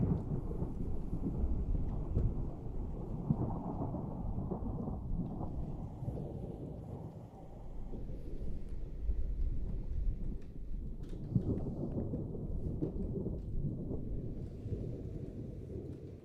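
Thunderstorm ambience in a Minecraft-style survival game: a steady, fairly quiet low rumble of thunder and rain-like wash persists throughout, with a slight swell near the middle and no speech.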